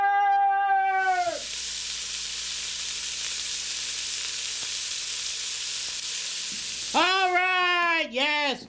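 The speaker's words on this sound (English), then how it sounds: "our soup is sizzling up and looking real beautiful" Soup sizzles hard in a pan, a loud, even hiss lasting several seconds, framed by someone talking just before and after it.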